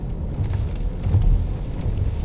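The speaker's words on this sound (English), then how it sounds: "The wind is shaking the car." Gusting wind pressing on a parked car during a rainstorm at a beach, a low, rumbling buffet that swells and eases steadily, close and heavy with no voices.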